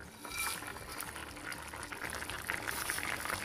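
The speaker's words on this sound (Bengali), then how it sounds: "এখন ভেজে রাখা মাছগুলো দিয়ে দিচ্ছি।" Gentle bubbling and sizzling of a simmering potato curry as fried sea fish pieces are added, soft and close with faint liquid splashes throughout.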